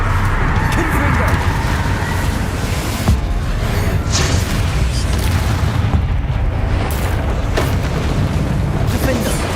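A Confringo fire spell explodes in Hogwarts Legacy, a loud, sustained booming roar of fiery blasts and rumble running through the whole stretch, with a voice calling out over it.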